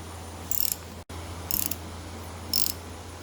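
A socket wrench ratchets to loosen the steering wheel nut on a 1968 Ford 2000 tractor, giving three short clicking bursts spaced about a second apart, close and fairly loud against a steady low hum.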